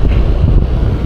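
Strong sea wind buffeting the microphone on a pier in Giporlos, Eastern Samar, a loud, low, rumbling roar that stays constant and close throughout.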